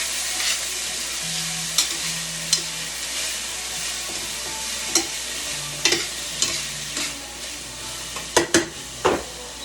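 Vegetables stir-fry in a pan with a continuous hiss and sizzle, punctuated by sporadic scrapes and clacks of a utensil that cluster near the end.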